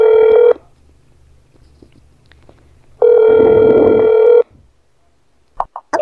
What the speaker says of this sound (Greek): θα πάρω λίγο το τηλέφωνο στο διαμέρισμά σου